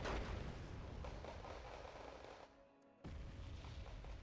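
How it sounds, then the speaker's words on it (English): In Wargame Red Dragon, mortar fire sets off a loud, dense barrage of booming impacts and rumbling blasts, broken by a brief drop to near silence before the explosions resume. "The mortars are getting some good stunning hits on this Yugo infantry blob"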